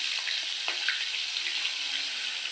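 Butter melting into hot oil in a kadhai while making cheese butter pasta, a steady close hiss and sizzle with faint crackles throughout.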